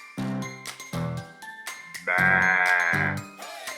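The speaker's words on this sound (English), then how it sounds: "Sheep. Bah. Bah. Bah." A sheep bleats four times in separate calls, the third longer and more drawn-out, close and clear, with a light jingling tinkle between them.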